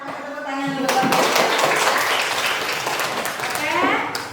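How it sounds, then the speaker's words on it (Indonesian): Classroom applause as students clap together during a group lesson, a dense burst of hand claps with children's voices mixed in, continuous and fairly loud for several seconds. "Tepuk tangan dulu."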